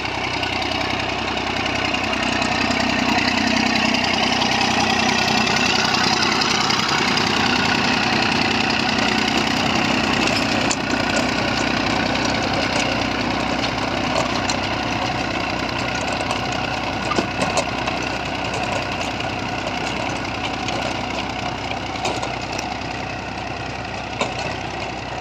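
A Massey Ferguson 35 tractor with a worn clutch idles nearby, its engine giving a steady, loud, unbroken rumble throughout, with no speech.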